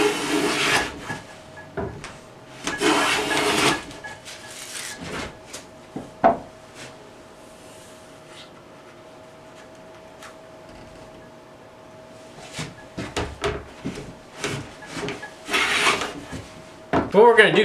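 A No. 7 jointer hand plane is pushed over wooden winding sticks in a few rough, rasping strokes, two bursts at the start and more near the end, with a quiet stretch between.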